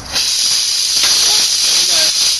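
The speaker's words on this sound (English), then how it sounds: "I'm going to use the welder after to do it." Arc welder melting the end of a bolt on a homemade lawnmower tank-track build, giving a steady, loud, close hiss and sizzle with faint crackles throughout, no talking.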